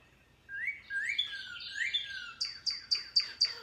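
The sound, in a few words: male bird singing pretty bird song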